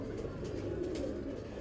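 Low, steady cooing from fancy pigeons in a keeper's loft, a soft murmuring burble that runs continuously through the moment with no talk over it.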